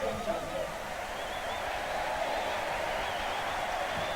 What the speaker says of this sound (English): The crowd is reacting to the replay here at Madison Square Garden